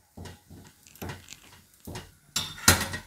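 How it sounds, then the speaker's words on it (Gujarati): A spoon stirring wheat-flour papad dough in a metal vessel, in several separate bursts of scraping and clinking, the last burst loudest, with no one speaking. "આને આપણે હલાવી લેવું આ રીતે, વેણું કે ગમે એ લઈને આ રીતે આપણે હલાવી લેવાનું એમ."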